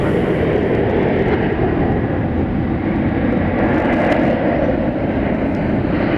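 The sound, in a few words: Airbus A380 aircraft in Peacock livery at DFW Airport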